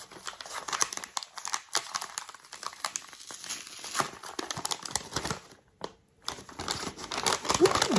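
Paper and wrapping crinkle and rustle continuously as an Advent calendar package from Magnolia Bakery is opened, close and fairly busy, with a brief pause near the end before the crumpling resumes.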